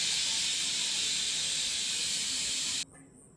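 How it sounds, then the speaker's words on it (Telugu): A pressure cooker on the stove releases a loud, continuous steam whistle and hiss for nearly three seconds before it cuts off abruptly to near quiet. "ఒక 3 విజిల్లు వచ్చేదాకా ఉడికించి"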